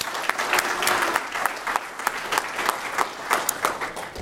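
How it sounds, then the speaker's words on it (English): An audience at a malware analysis conference session breaks into a round of applause, dense clapping with sharp individual claps standing out, steady throughout. "Round of applause."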